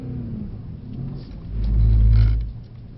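A 630 bhp Mercedes-AMG GT drifting on a track, its engine swelling into one loud, deep rev that rises and fades over about a second amid a steady lower rumble.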